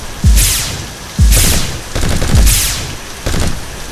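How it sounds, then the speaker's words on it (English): Gunfire sound effects in a dramatized military battle, four heavy booming bursts of shots spaced about a second apart, loud and close with rattling tails between them. "Suppressing fire at enemy target!"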